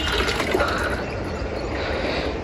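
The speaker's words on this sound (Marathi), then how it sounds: "कोणतरी नळ चालू ठेवला आमच्या इथला" A steady, unbroken rush of water from a running tap, fairly loud and close, with no talking.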